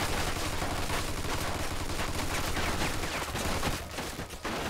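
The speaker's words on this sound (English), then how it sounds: "Looks like we found the machine gun" Sustained machine gun fire from a firefight in the video game Mafia II Definitive Edition, a dense continuous rattle of rapid shots that stays loud throughout, briefly thinning near the end.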